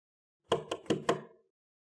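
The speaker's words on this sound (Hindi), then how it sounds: "जैन, जैन दरवाजा खोलो।" Four firm knocks on a door come in a quick, even sequence, close and clear against silence, each rap sharp with a short ring-off.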